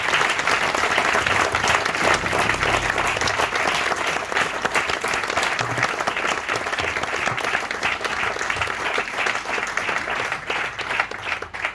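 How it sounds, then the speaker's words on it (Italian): A theater audience gives a long, dense round of applause that holds at an even, loud level throughout, with many hands blending into a continuous roar. "Quindi vorrei dedicare a Fedora un grande applauso"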